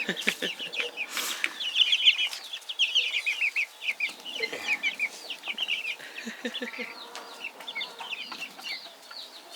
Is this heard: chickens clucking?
yes